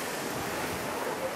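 Typhoon wind on Miyakojima, Japan rushes and roars as a steady broadband blast buffeting the microphone, loud and unbroken throughout the brief moment.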